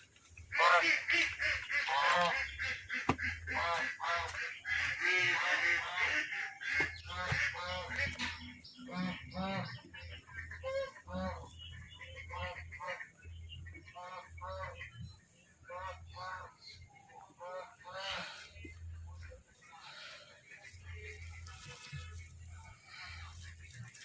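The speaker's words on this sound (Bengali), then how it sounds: "রাজহাঁসটা বন্ধ ছিল তো ছাড়লাম।" Geese freshly let out of their enclosure honk in repeated harsh calls, some loud and close, mixed with a person talking over much of the stretch.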